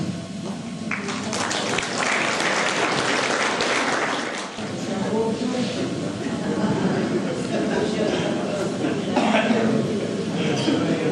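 Dense, loud applause from an audience honouring award winners at a community sports gala in Puck, sustained throughout with some voices mixed into the clapping.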